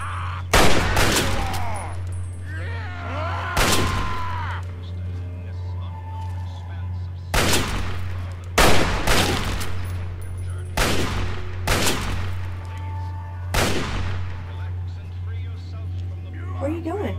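Gunfire in Fallout 3: a string of sharp, loud shots, some in close pairs and others spaced several seconds apart, over a steady low hum, with voices faintly present underneath.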